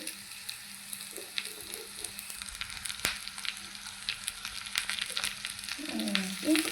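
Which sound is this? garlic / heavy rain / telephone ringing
garlic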